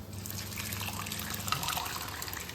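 Green peas go into a cooking pan over a high flame along with water for sev usal, giving a quiet, steady trickling and splashing of liquid.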